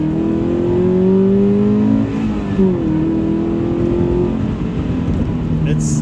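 A Subaru BRZ engine pulls hard under full throttle in second gear, its pitch climbing steadily and then dropping at a gear change before rising again, heard from inside.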